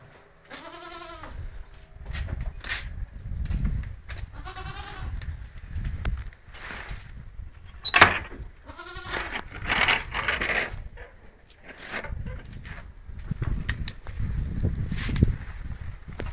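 Goats bleat several times while feeding on freshly cut drumstick tree leaves, their calls mixed with rustling and crunching of foliage up close.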